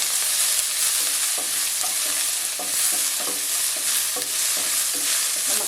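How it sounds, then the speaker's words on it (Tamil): Finely chopped large onions sautéing in oil with tamarind seeds in a pan, a steady close sizzle with repeated stirring scrapes throughout, no talk. "பொடிசா கட் பண்ணி வச்சுருக்க பெரிய வெங்காயத்தை சேர்த்துக்கலாம் எல்லாத்தையும் சேர்த்து நல்லா வதக்கிக்கலாம்"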